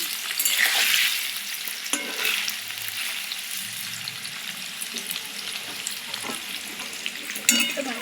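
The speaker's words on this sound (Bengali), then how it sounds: "পনিরগুলোকে বেশি লাল লাল করে ভাজবো না, হালকা করে ভেজে নিচ্ছি।" Paneer cubes frying lightly in a pan, a steady close sizzle with stirring scrapes and a few utensil clicks, no talk.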